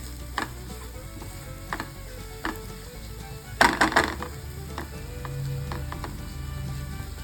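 Pea filling with sugar cooks in a pan while being stirred. A faint sizzle runs throughout, broken by sparse clinks and scrapes of a spoon and a sharp cluster of metallic clatter midway, with no talking.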